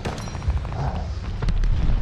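Bombing-run explosions in the Call of Duty: Vanguard online match, heavy low booms and rumbling blasts rolling continuously for about two seconds, loud and dense with scattered sharp impacts.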